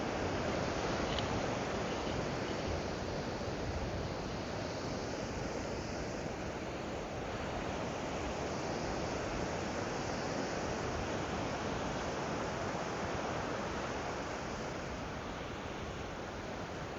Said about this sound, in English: Can you hear the ocean?